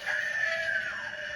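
A Halloween porch lantern decoration that also pushes fog from its eyes gives off a sustained electronic shriek or scream, fairly loud and continuous for a moment in the background.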